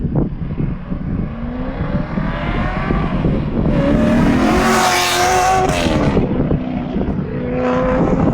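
A loud Chevrolet Corvette C7 engine roars steadily with rising and falling revs, passing close by amid wind rush and road noise, no voices.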